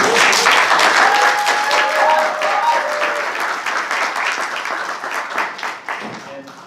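Meeting audience applauding a school's work, a dense burst of clapping that starts loud and gradually thins and softens, with faint tonal voices or whistles and some talk mixed beneath.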